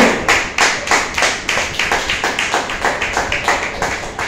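A church congregation claps for the Lord in a strong, steady rhythm of sharp, loud unison claps, roughly four per second, close and uninterrupted for the whole stretch.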